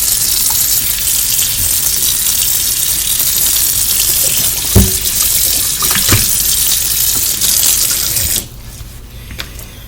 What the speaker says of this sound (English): And what I do is I rinse it out with cold water first.